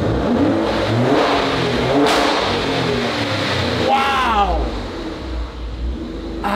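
A Maserati Grecale Trofeo on its stock exhaust gives a couple of sharp throttle blips over a rumbling idle, loud and close, with a person talking between revs.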